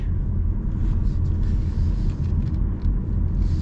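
A 2025 Chevy Malibu mid-size sedan with a CVT drives along, giving a steady, loud low rumble of road and engine noise from inside the cabin with no voices.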